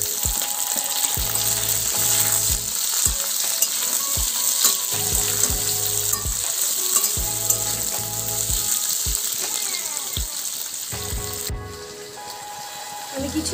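Potato and ridge gourd fry in a pan with a continuous sizzle, while a spatula scrapes and taps against the pan in repeated short strokes, close by and without talk.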